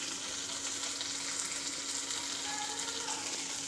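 Masala sizzles steadily in a hot pan, frying up close with a constant crackling hiss and faint stirring, and no voices.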